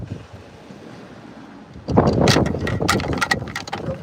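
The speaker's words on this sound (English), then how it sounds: "It's windy." Wind gusts across a Nova Scotia beach, buffeting the microphone; a quiet low rush suddenly swells into loud, rough blasts that keep pounding unevenly to the end.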